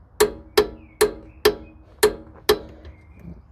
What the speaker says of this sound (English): when you get a big click, that's when you know it's actually set to the right torque setting